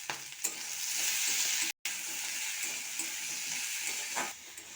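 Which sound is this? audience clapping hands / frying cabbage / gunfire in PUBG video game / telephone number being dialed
frying cabbage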